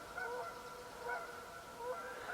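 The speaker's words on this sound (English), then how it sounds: "You can hear the geese out there." Geese honking out near a lake in spring, a few faint, distant calls repeating every second or so over steady outdoor background noise.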